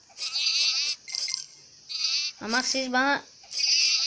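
Several short, wavering sheep bleats from the game Will Hero, mixed with a person talking between and over the calls.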